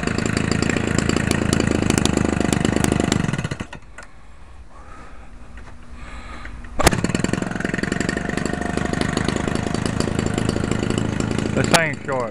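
A Homelite 30cc Racer X two-stroke engine with a bigger bore and two-pin piston rings runs loud and close, buzzing steadily, cutting out briefly, then firing back up and buzzing again.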